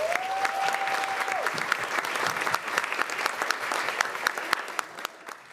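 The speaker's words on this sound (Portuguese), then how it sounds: "Queria uma salva de palmas para eles aí." A seated audience at a corporate culture event applauds steadily with dense, continuous clapping, fading slightly at the end, after a brief whistled tone at the start.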